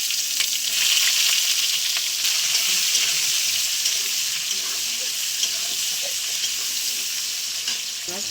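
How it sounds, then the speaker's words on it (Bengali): Chopped onions fry in hot white cooking oil in a wok alongside whole dried red chillies and cumin seeds, giving a loud, continuous hissing sizzle throughout with occasional stirring scrapes and no speech. "কুচানো পেঁয়াজটা দিয়ে দিলাম।"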